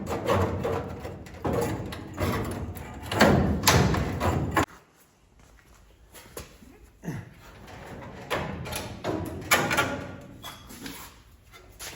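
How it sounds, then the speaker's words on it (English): Repeated heavy thuds from striking a Ford MK1 Escort body panel during A-pillar restoration, coming in irregular bursts with a quieter stretch midway and some sharp knocks. "the problem with hitting this panel is you get a lot of bounce back"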